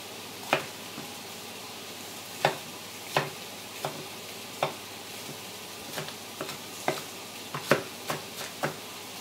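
A knife roughly chops deseeded peppers on a board, making about a dozen crisp, irregularly spaced knocks over a quiet background hiss, close and moderately soft.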